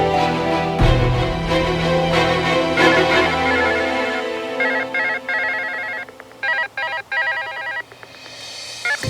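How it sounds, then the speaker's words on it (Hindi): A phone rings with a bright electronic tone that repeats in bursts, loud and close, with no talking. "फोन क्यों नहीं उठा रहे हो?"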